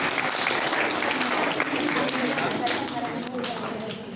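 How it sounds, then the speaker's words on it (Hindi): Steady audience applause at a yoga competition gathering in north India, dense and continuous throughout, easing slightly near the end, with faint voices mixed underneath. "तालियां थोड़ी हो जाएं."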